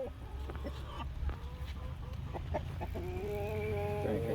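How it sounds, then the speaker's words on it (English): A gentle rooster on a small poultry farm clucks softly several times, with short tonal calls and a longer drawn-out cluck near the end, over a low background hum. "he's the most gentle rooster ever"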